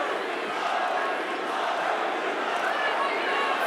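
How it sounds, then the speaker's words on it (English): A crowd at an MMA fight chants a fighter's nickname, a continuous dense roar of many voices that stays steady and fairly loud throughout. "Fluffy chants coming from the crowd"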